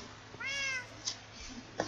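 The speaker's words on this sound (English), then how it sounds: "That's my cat saying hello." A pet cat meows close by, a clear drawn-out cry followed by a couple of short, fainter chirps, with no one talking.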